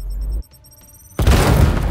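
A frag grenade detonates in the Warhammer 40k game Chaos Gate Daemonhunters: a low rumble drops to near silence, then a loud, broad boom bursts in and rolls on as sustained blast noise to the end.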